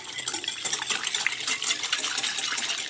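A spoon stirs hot milk with sugar in a cup, giving rapid, steady metallic clinks and light scraping at close range, with no voices.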